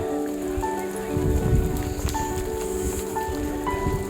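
Steady rain falls at Shivneri Fort, a dense hiss of drops on surfaces with no break, fairly loud and close, and some faint tonal sounds running underneath.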